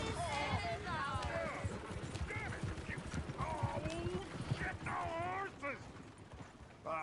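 Horse hooves clip-clop at an easy, steady pace in the video game Red Dead Redemption. The hoofbeats run continuously under spoken dialogue from characters.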